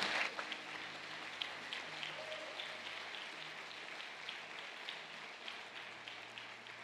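Faint, distant applause from a church congregation during a sermon on the Last Supper, a steady wash of soft clapping lasting several seconds with no voices over it.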